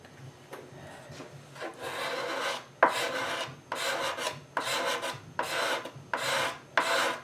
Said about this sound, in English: I can work with a scraper blade for maybe 20 minutes or so